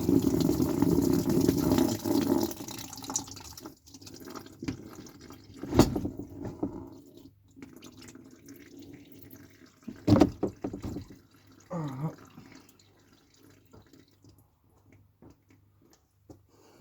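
Coolant runs and trickles steadily from a Peugeot 307 1.6 16v radiator into a container nearby, with a few louder clunks and splashes breaking the flow.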